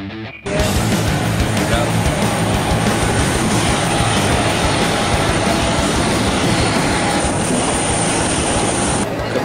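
Airliner cabin during a flight to Curitiba, a loud steady broadband engine and air roar that starts abruptly and holds constant throughout, with a faint high whine on top.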